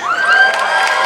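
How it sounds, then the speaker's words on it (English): A graduation ceremony crowd cheers and whoops in a steady, loud wash of voices, with high shouts rising over the roar for the whole moment. "If you had him, you're definitely cheering right now."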